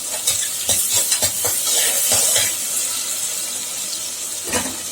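Salted chicken pieces sautéing for Thalapakatti biryani hiss loudly in the pan, broken by a quick run of metal spoon scrapes and clinks early on and another near the end, close and fairly loud.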